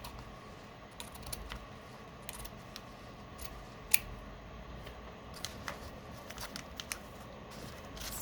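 Scissors snip through Amazon packaging material in a quiet room, a scattered series of short, crisp cuts at uneven intervals, one sharper snip standing out, fairly close and soft overall.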